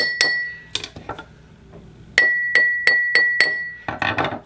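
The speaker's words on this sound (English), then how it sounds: "And then I tried this mallet, the back of it." A drinking glass is struck with the back of a mallet, giving a few dull knocks and then five bright ringing clinks in steady rhythm, close and clear, followed by a burst of clattering.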